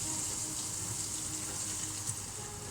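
Liquid poured over raw chicken before roasting, a soft steady splashing and trickling heard up close and quietly, continuous for a few seconds with no talking.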